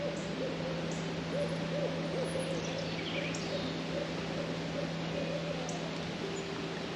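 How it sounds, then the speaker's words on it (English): Owls hoot in a garden in spring, their calls repeating over a steady low background hum with faint higher chirps. "Do you hear the owls? I love when they do that."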